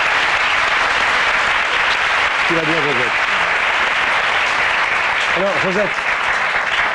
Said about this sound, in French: Je vous demande de l'applaudir, c'est Josette.